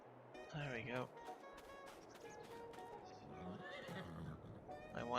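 Horses neigh repeatedly on a farm in Farming Simulator 22, several shrill whinnies at the start, middle and end over a steady background, with someone talking at times between the calls.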